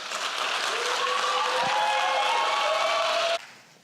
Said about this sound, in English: Let's give her a big round of applause and welcome her to the stage, okay?